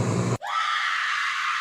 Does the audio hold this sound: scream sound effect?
yes